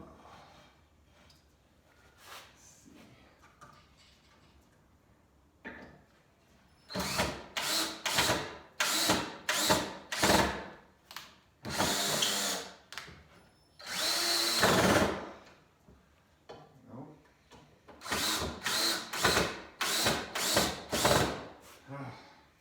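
A screw gun driving screws while organizing a garage, with repeated loud whirring bursts of a few seconds each separated by quiet pauses and faint background noise.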